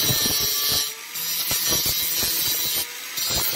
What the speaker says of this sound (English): And then I just try to roughly grind that down in that shape.